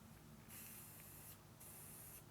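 Two bursts of spray paint hissing, each lasting close to a second, with a short pause between them and a steady low rumble of wind underneath.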